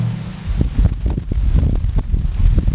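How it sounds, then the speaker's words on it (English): Strong outdoor wind buffeting a camera microphone, a loud, continuous low roar with gusty surges and rustling throughout. "Wow, it's hella windy today."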